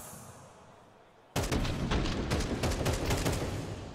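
AK rifle fire in Counter-Strike 2 on the Anubis map cuts in suddenly after a quiet second, becoming a loud, rapid burst of sharp cracking shots that keeps going to the end.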